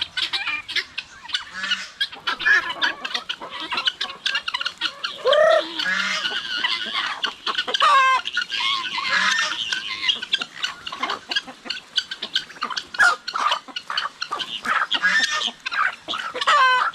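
Many roosters crowing and clucking together on a Filipino farm, a loud, busy flock with overlapping calls and repeated crows throughout, close and continuous.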